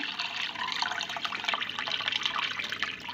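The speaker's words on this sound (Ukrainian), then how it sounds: "все в кастрюльку і заливаю простою холодною водичкою" Cold tap water pours into a pot holding chicken and turkey giblets, heard as a continuous close splashing, bubbling stream with no talking.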